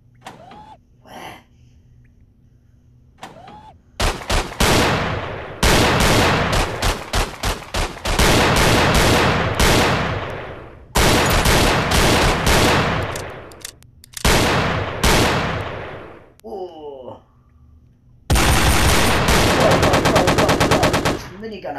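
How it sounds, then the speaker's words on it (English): A minigun roars in Gun Club VR, SWAT DLC, in long, loud sustained bursts of rapid fire broken by short pauses, with mechanical whirring and faint game sounds between volleys. "Minigun action there, bro."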